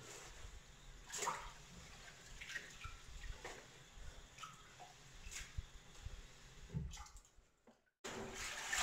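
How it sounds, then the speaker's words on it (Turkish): Wild greens from a village garden washed in a basin of plenty of water, with repeated sloshing and splashing bursts and dripping, close by and with no talk. "Otları bol suda 4-5 defa yıkıyoruz."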